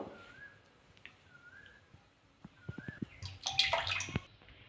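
White cooking oil is poured into a hot wok set on a gas flame while making dalmut, giving a short, close gurgling splash that builds near the end over a quiet background with faint whistling tones.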